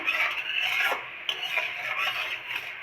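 Melting sugar is stirred in a pan on the stove, making a continuous close rasping scrape with a brief pause midway before the scraping resumes.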